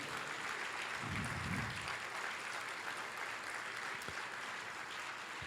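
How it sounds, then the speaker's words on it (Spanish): A church congregation claps in praise during a service, a faint, steady wash of applause heard from some distance, with a brief low voice near the start. "¿Por qué no le das un aplauso de gloria al Señor?"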